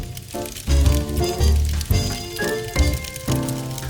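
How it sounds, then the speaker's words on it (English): A cheese-crusted quesadilla sizzling in a pan, steady crackling fry with bursts of louder hissing and popping, close up with no talk. "Now we let these cook for about 3 to 4 minutes until the cheese is completely melted"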